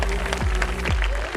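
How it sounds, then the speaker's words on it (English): An audience at a school annual day stage show gives a brief, steady round of applause, dense clapping filling the hall for a moment. "give us a big round of applause"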